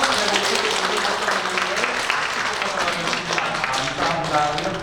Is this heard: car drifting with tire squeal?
no